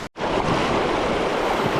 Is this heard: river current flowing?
yes